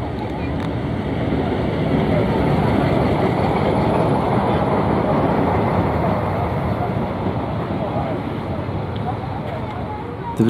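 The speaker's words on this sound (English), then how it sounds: "could hear two Fricks engines working their way out of the" Two Frichs heritage diesel engines labour as a Danish heritage train pulls away, a dense low rumble with rolling rail noise, steady and fairly close for the whole stretch.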